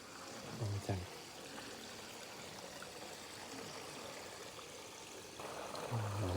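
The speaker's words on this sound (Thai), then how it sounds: "มีน้ำไหลเห็นเลย" Continuous flowing water at a Thai Buddhist temple, a steady, broad rushing and trickling wash heard throughout, with brief low voices near the start and end.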